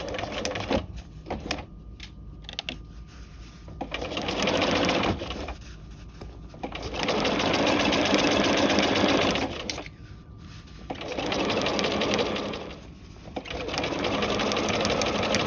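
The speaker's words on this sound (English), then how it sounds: "We're going to sew at a 5/8 inch seam allowance." Sewing machine stitching a V yoke seam at a 5/8 inch seam allowance, running in several long bursts of rapid, even needle chatter separated by short pauses, close and loud, with no talking.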